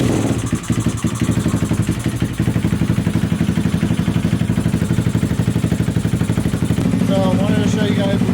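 A motorcycle engine runs steadily at close range, loud and continuous with an even, rapid pulse, idling throughout with a slight change in tone near the end.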